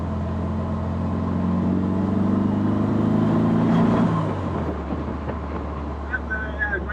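Steady low engine drone of a Porsche 356 Speedster's small rear-mounted flat-four while driving, a smooth continuous hum that shifts in pitch midway, with wind noise over it.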